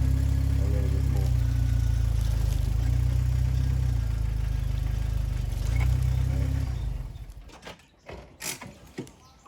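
Jeep engine pulling forward off-road during a self-recovery on rocky ground, a steady loud low rumble for several seconds that fades out, followed by a few scattered knocks and crunches.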